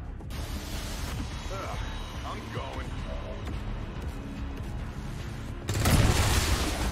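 Gunfire in the video game XCOM 2, played with the War of the Chosen expansion and the Long War 2 mod: a dense, steady burst of shots and booms fills the clip and swells louder near the end, with someone talking faintly under it.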